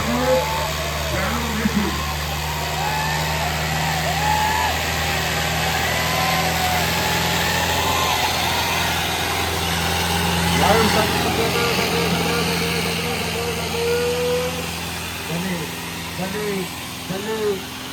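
A non-turbo Sonalika 60 tractor engine chugs steadily at a low idle throughout, with voices and other background sounds mixed in.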